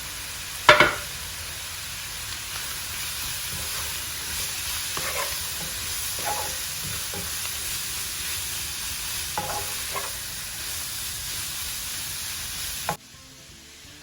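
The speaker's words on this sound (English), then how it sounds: "Next goes in the chopped up pepper and the carrot, grated carrot. And I'll continue to cook on high heat." Chopped pepper and grated carrot frying on high heat in a pan, a steady hiss of sizzling with a sharp clatter at the start and a few soft stirring knocks, no voices.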